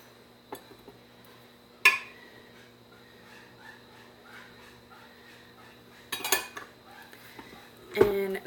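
Flour is being mixed into apple pie cookie dough in a bowl, heard as a few sharp clinks and knocks of a utensil against the bowl, spaced seconds apart over an otherwise quiet kitchen.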